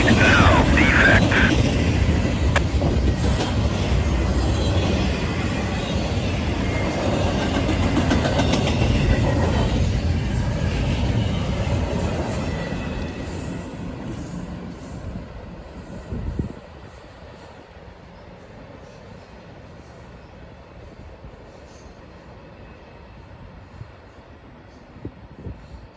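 A Norfolk Southern freight train, 26X, rolls past on the Harrisburg Line with loud rumbling and clickety-clack wheels that gradually fade into the distance, leaving quieter ambience with a few faint knocks.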